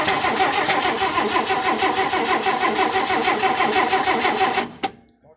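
A 1958 AMC Rambler Super engine cranks steadily and loudly for nearly five seconds in a rapid, rhythmic churn without catching, then cuts off abruptly into near silence.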